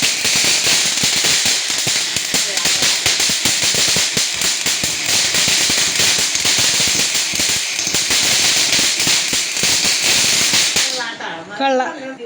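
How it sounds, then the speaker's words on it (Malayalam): Firecrackers burst at night for the Vishu festival in a dense, rapid crackling barrage of loud sharp pops lasting about eleven seconds, then cutting off abruptly into quieter sounds. "രാത്രിയായപ്പോൾ നമ്മളിത് പടക്കം പൊട്ടിക്കാൻ പിന്നെയും പോകാൻ പോണേണ്"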